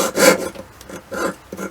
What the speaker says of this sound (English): So I'm going to come in like this here and just start sawing.